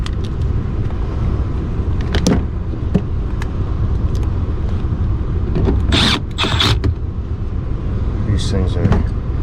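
An air conditioning condenser unit charged with MO99 (R438A) refrigerant hums and rumbles steadily at close range, with a few clanks and hissing bursts over the drone.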